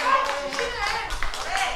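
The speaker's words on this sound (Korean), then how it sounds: "박수를 주구려" An audience at a nighttime performance at the Naejangsan autumn foliage festival claps steadily and close by, with voices talking over the clapping.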